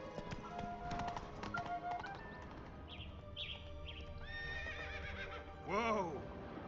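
Roach, a horse in The Witcher 3: Blood and Wine, trots with clip-clopping hooves under game music and ambience, then lets out a loud, wavering whinny near the end.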